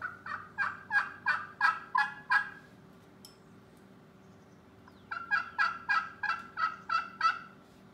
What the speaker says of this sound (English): To make a Yelp on the pot call, it's different than the box call.